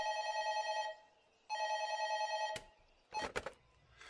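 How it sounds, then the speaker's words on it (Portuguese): Telephone ringback tone heard while a call is being placed: two long, steady, clear pulses separated by a short pause, then a brief click and a crackle as the line picks up. "Então eu vou ligar agora mesmo para o Rogério Monteiro para avisá-lo."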